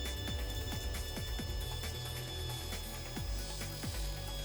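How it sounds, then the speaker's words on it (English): The spinning motor shaft of an E-flite Turbo Timber Evolution RC plane being sanded, a steady whirring motor hum with a rhythmic rasping, ratcheting scrape repeating about twice a second, close up. "sand the motor shaft while the motor spins"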